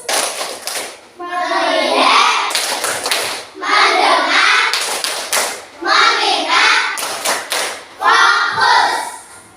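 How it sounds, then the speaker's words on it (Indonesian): A class of children performs a rhythmic 'tepuk fokus' clapping chant, loud bursts of patterned claps alternating with chanted voices in four repeated phrases, with short pauses between. "Yuk coba, tepuk fokus."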